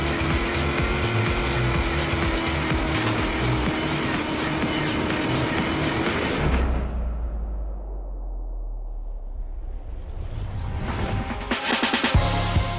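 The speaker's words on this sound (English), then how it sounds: "just take a listen to the sound of the roaring V8." A Camaro Z28's V8 roars in Forza Horizon, loud and sustained over a music track, dropping to a low rumble midway before revving back up.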